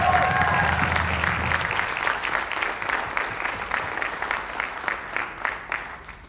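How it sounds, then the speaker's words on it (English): A school audience applauds graduating percussion seniors at an evening concert, with dense, sustained clapping that slowly thins out and a brief voice heard over its start. "Let's give a round of applause for our 2026"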